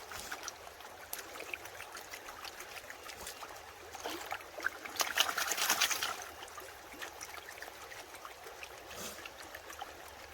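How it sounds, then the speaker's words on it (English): Water swirling and sloshing in a gold pan during quick speed panning, a steady trickling wash with a louder splashing surge midway. "Even though I'm speed panning, I'm still gonna stratify pretty carefully."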